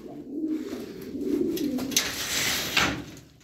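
Pigeons coo close by in a loft, a few soft, throaty coos over about three seconds with light rustling and a couple of faint knocks.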